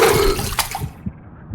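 Water splashes and churns in a video game forest, a loud rushing slosh at first that quickly drops off into a few small trailing splashes.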